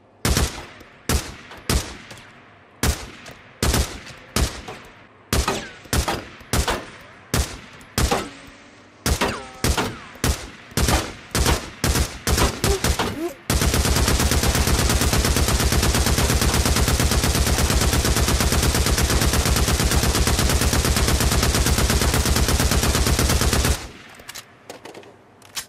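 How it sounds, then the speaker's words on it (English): MG55 machine gun firing in Days Gone, first a series of loud separate short bursts and single shots, then one long unbroken stream of automatic fire lasting about ten seconds before it stops abruptly. "Next up, the MG55. A little more damage, a little more accuracy, a little more stopping power."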